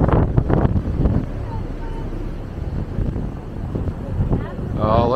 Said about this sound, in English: it's getting a lot windier.